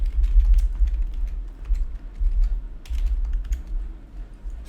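Someone typing on a computer keyboard while writing Python code: rapid, continuous key clicks at close range, steady and fairly loud with no voices.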